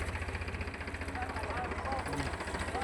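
A tractor engine idles while reversing, a steady, rhythmic low throb that holds for the whole stretch, with faint voices briefly audible over it.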